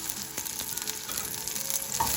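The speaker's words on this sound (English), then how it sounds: "I can fry my onion and 2 garlic cloves" Onion and two garlic cloves fry in a little oil, giving a steady, close sizzle with faint crackles and a brief utensil scrape near the end.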